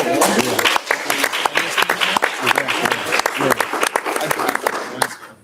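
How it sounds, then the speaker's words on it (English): A round of applause at a school board meeting, steady crowd clapping filling the room for about five seconds with a few louder individual claps, then tapering off. "One more round of applause."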